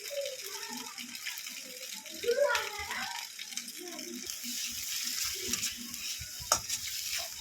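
Fried onions get stirred into a bean mash (shim bharta) in a pan, giving a soft sizzle and scraping stir strokes while a voice talks over the cooking.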